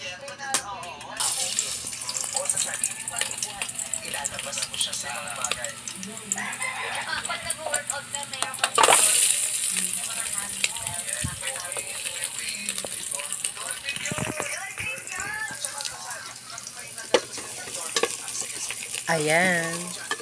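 Chicken wings sizzle in hot oil in a pan for adobo while being stirred, with a steady crackling hiss, scraping and clatter of the utensil, and people chatting over the cooking.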